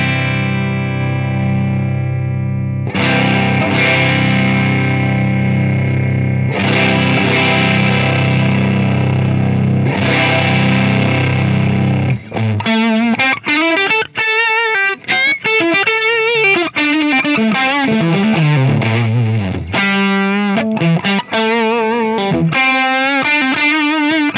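An electric guitar runs through the ODS-100 amp model on an FM3 with the drive cranked, first as ringing sustained chords and then as fast distorted lead runs, loud and alone.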